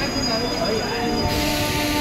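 An almost empty passenger train runs steadily near Andul station, a continuous close rumble of wheels and carriage noise throughout, with faint indistinct voices in the background.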